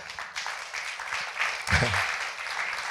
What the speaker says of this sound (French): Merci, on peut l'applaudir encore.